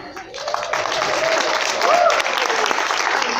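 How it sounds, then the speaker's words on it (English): A room full of people applauding, a steady, dense clatter of clapping that holds at an even level throughout. "I think the round of applause really is deserved by Bernadette and Ben"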